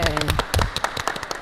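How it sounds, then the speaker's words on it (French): Studio audience on a Martinique auto and moto radio show clapping: a short burst of sharp, uneven handclaps, close and fairly loud, thinning out toward the end with a voice briefly at the start. "On peut nous applaudir"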